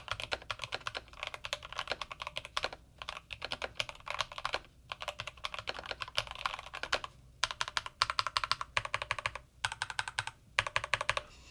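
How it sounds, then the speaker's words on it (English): Rapid, clicky typing on a Corsair K70 Core mechanical keyboard runs continuously, with brief pauses between bursts of keystrokes, close and clear. "So let's do a quick typing test."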